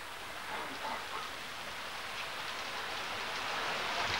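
Steady rain falls in an outdoor garden near a cave, a dense, even hiss with no breaks, fairly close and constant throughout.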